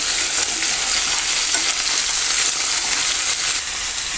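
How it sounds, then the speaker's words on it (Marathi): Thin potato slices frying in oil in a pan, a loud, dense, continuous hiss of sizzling that holds steady throughout, close and alone with no voices. "हे ना असे तेलामध्ये परतून घ्यायचे"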